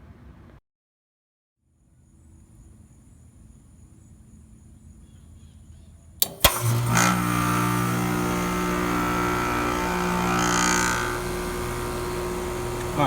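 Heat pump starting up in heating mode with its reversing valve energized: a near-silent stretch, then a sharp clunk and a loud, steady whirring hum from the running unit.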